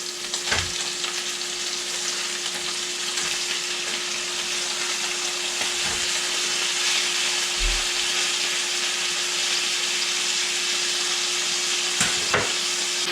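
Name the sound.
morel mushrooms frying and being stirred in pan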